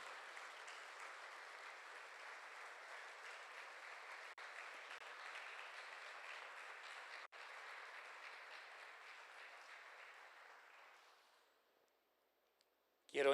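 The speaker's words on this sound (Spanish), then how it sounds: "Si usted cree eso, déle un fuerte aplauso al Señor." Church congregation applauding at a service, with a broad steady wash of clapping sustained for about ten seconds before fading away to near silence.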